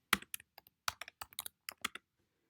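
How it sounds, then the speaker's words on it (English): Typing on a computer keyboard, about a dozen crisp key presses in quick irregular bursts, close and clear with no talk. "So you can start typing"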